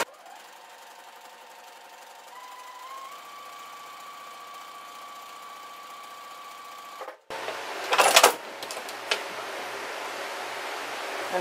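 A sewing machine runs a quarter-inch seam in a steady, even whir for about seven seconds, then stops abruptly, followed by louder clatter and handling noises nearby.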